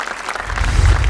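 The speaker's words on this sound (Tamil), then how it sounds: "அதுக்காக ஒரு பெரிய கைத்தட்டல் கொடுத்துடலாமே" Applause for the daughters-in-law on a Tamil New Year TV show, starting as faint scattered clapping and building into a loud, full studio crowd burst by the end.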